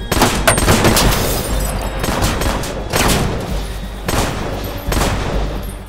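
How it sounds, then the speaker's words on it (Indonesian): Gunfire in a film scene as a man fires on Matthias in a car, loud dense bursts of shots in several volleys separated by brief dips, with no talk. "Opik yang tahu semua ini jebakan pun menembaki Matthias."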